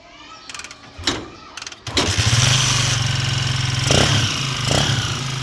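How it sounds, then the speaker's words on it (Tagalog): A Honda TMX 155 motorcycle with a battery-operated CDI is cranked with a few short starter bursts, then catches and settles into a loud, steady, close idle with a slight rev surge near the end. "Subukan natin itong paandarin ngayon."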